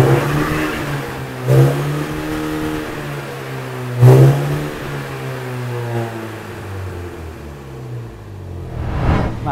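A MINI John Cooper Works Cabrio engine revs up in three loud, close blips, rising and falling sharply, with a low idle rumble between them and no talk.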